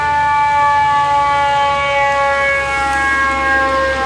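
A fire truck siren wails loudly and steadily as it passes, its sustained tones filling the air with no talking.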